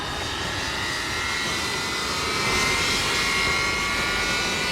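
An Avro Vulcan bomber's jet engine spools up during a start, a steady rising whine and roar with thin high tones, moderately loud and building slightly toward the end.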